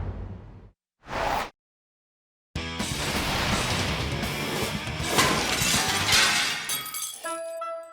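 Restaurant window glass shatters as a car crashes through the wall; two brief thuds come first, then a loud, sustained burst of breaking and crashing glass, followed by tinkling shards settling near the end.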